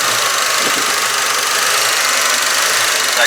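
A 1965 Ford Mustang engine idles with a sticking throttle, running loud and close in a steady, continuous drone with a slight hunting unevenness.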